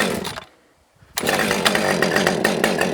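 A 30cc chainsaw fitted with a long bar runs on fast idle, a loud, close, buzzing two-stroke drone that dips nearly silent for a moment before revving straight back up and holding steady.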